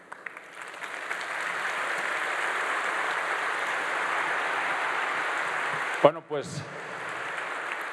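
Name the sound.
audience applause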